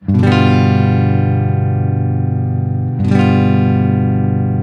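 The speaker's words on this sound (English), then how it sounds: "This time, we're doing our first chord that involves strumming all 6 strings." A full guitar chord strummed on all six strings twice, each strum ringing out loud and sustained for about three seconds before the next.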